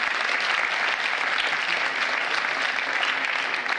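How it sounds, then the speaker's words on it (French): A crowd at a New Year's greetings ceremony for residents claps steadily, a thick even wash of applause lasting the whole stretch, fairly close and uninterrupted. "On peut l'applaudir."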